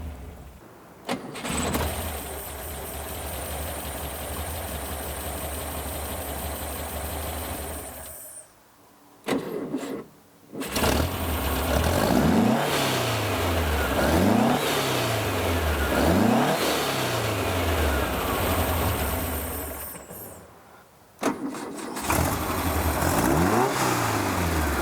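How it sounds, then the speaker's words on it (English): A 1964 Porsche 356 C coupe engine cranks and fires, idles with a throaty mid-pitched rumble, cuts out, restarts and is revved in repeated rising blips up close before settling and stopping. "if you step on the gas and open the gas up, it'll start spinning over fast and starts."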